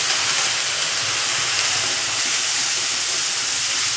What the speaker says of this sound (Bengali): দিয়ে একটু মশলাটা আমি কষিয়ে নিই।